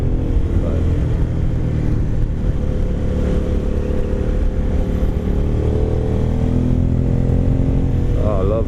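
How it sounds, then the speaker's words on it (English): Big Italian motorcycle engine pulling steadily under acceleration while riding in traffic, a dense continuous low rumble with rising harmonic tones, close and loud throughout with no pauses. "the sound of these big Italian bikes"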